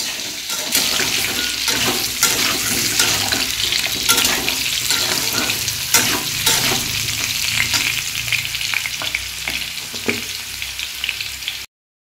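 Bay leaves and whole garam masala spices sizzle in hot oil, a steady loud frying hiss with scattered crackles and occasional spoon scrapes as the spices are stirred.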